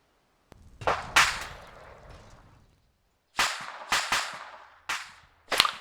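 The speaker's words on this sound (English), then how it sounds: "This is Vic 2 reporting explosions." Sharp explosions and blasts during military convoy platoon training, several loud cracks in two bursts separated by a brief quiet gap, each with a short rumbling tail.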